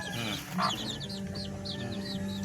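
A mother hen with chicks clucks softly in short, repeated notes over a steady background hum, with scattered higher chirps nearby.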